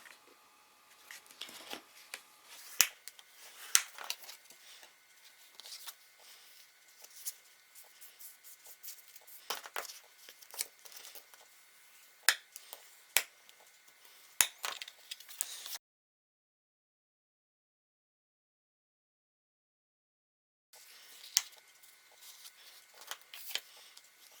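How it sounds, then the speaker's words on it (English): Bone folders burnishing scored card, a faint, close rubbing and scratching with scattered sharp ticks, broken by a long silent gap before quieter rubbing resumes, with no voices. "I'm just going to burnish with the bone folders."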